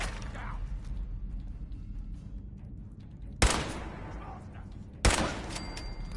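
Two loud gunshots ring out in Fallout 4, each sharp crack followed by a brief decaying tail over a low, steady game background.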